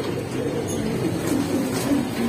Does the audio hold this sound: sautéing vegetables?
no